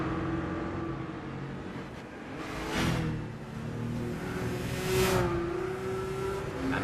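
A Subaru racing in Gran Turismo 6, its engine droning steadily and revving up and down through the laps, close and continuous with no talk.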